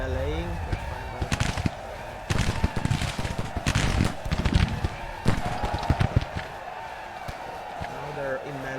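Rapid crackling musket volleys from Civil War infantry lines in Grand Tactician: The Civil War, irregular sharp reports bunching into ragged bursts at mid distance, with a voice talking over the battle noise.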